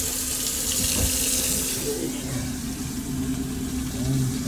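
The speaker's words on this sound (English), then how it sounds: "Kitchen sink. That's working." A kitchen sink tap in an IBEX 19RBM trailer runs with a steady hiss of flowing water, close and continuous throughout.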